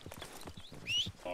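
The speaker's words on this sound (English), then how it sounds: "I heard my horse coming, Butch." Horse hooves clip-clopping in a video game as the animal approaches, a quick run of soft thuds growing a little louder over a short span, with faint game ambience and a light whinny-like tone.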